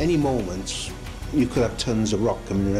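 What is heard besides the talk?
None of the usual background noises is heard.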